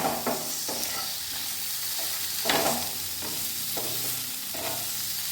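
Potatoes frying in a pan with turmeric and salt, a steady low sizzle broken by repeated scraping stirs of a spatula every second or so, close and moderately quiet.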